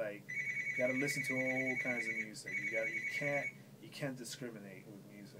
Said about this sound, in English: Sorry about the phone, guys.